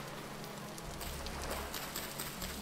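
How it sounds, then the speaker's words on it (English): Rain in the video game Vintage Story, a steady dense patter of drops on the ground, even and continuous, with a soft low rumble underneath and no talking. "oh yeah, beautiful rainy day."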